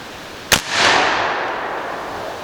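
A single sharp gunshot from a Bush Buck 452 rifle fired at a target outdoors, loud and close, followed by a longer rolling echo that slowly fades.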